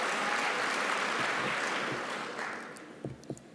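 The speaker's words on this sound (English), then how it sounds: "you're clapping" Audience applause fills a Minneapolis awards event hall, a dense, sustained wash of clapping that gradually thins and fades toward the end, with a couple of sharp louder claps near the close.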